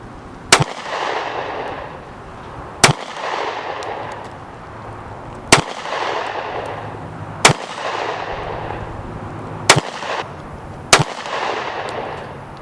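Six sharp, loud gunshots from a Kemper 9mm handgun crack out one at a time at uneven intervals of a second or two, each with a short echoing tail, fired at close range with no talking.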